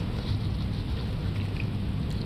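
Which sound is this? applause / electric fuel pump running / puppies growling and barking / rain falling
rain falling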